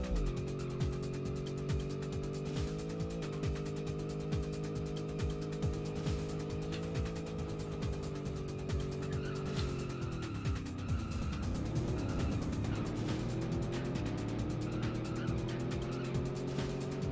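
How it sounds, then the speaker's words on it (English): Engine drone with sustained tire squeals as a car skids through turns in the racing video game San Francisco Rush 2049, steady and close, with no talking. "You can hear the tires screeching"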